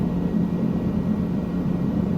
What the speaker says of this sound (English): Usually I'm flying higher than this in an airplane